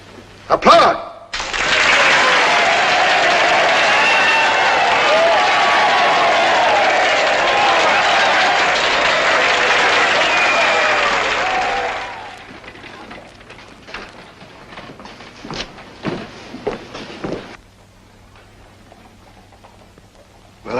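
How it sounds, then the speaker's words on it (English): A crowd in a western film bursts into loud, dense applause that runs for about ten seconds before dying away, followed by scattered claps, footsteps and a few voices. "Applaud!"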